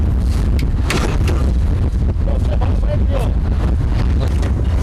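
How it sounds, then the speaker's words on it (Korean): Strong wind buffets a high-rise building exterior during facade cleaning, a loud, continuous roaring rush with gusty microphone-battering bursts throughout. "강한 바람이 작업자들을 가로막는다."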